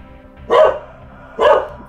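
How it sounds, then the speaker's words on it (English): Two sharp dog barks in the video game Metal Gear Solid: Peace Walker, close and loud, about a second apart, with quiet between them. "So Bowser is rightfully barking at him"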